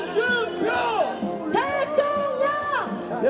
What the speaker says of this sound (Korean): 여러분 큰 박수로 우리 홍준표를 외쳐주시기 바랍니다.